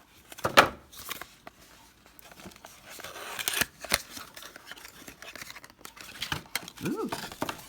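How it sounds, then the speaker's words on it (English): Large scissors snip and crinkle through packaging while a beauty subscription box is opened, with short sharp cuts and rustling at close range, faint voice in the background. "we need the scissors again"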